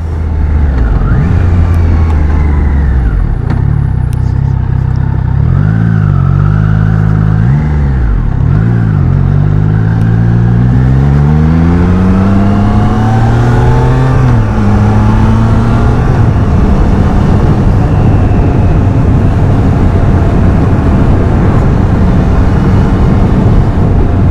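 A Triumph Trident 660 motorcycle ridden on a very hot day, its engine loud and continuous as revs climb and fall through gear changes, with no talking.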